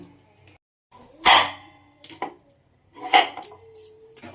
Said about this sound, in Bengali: এবারে আমি আলুগুলোকে কেটে নেব।